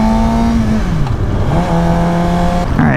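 A Suzuki GSX-R600 sport motorcycle engine revs loudly and close, its pitch climbing, dropping and climbing again in smooth sweeps, with a sharp rise at the end.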